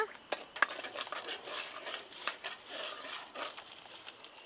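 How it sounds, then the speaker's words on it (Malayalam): A spoon stirs tomato-based sardine curry (mathi puli mulak) in a pan: repeated scraping strokes with a few sharp clinks and a soft simmering hiss underneath, close up and fairly quiet, with no talking. "നമുക്ക് കത്തിച്ച് ഇളക്കി കൊടുക്കാം"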